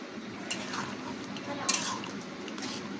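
A spoon scrapes and stirs chicken curry with garam masala in a pot, making soft, irregular scraping strokes with a faint clink over a steady low background hiss.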